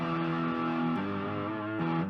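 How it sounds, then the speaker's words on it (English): A distorted electric guitar plays a heavy metal riff, sustained buzzing chords that shift pitch twice in quick succession, loud and close with nothing else audible. "I'm still using my electric guitar, but I've added a little bit of distortion."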